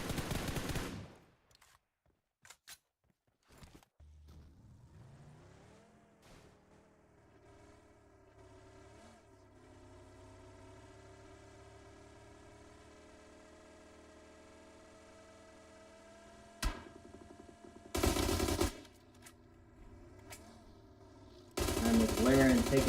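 Gunfire rattles in an esports video game match, with a few short bursts early on, then a long stretch of steady hum and tones, and loud bursts of noise returning near the end.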